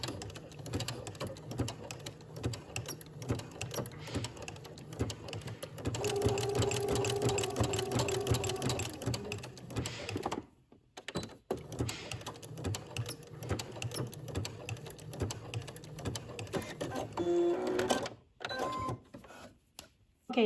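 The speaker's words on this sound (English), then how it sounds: "Then you will go to your sewing machine and insert a stitch from one edge to the other" Sewing machine stitching a seam on a maxi dress: a steady mechanical whir runs in bursts with brief pauses, close and clear, louder through the middle stretch, with no talking.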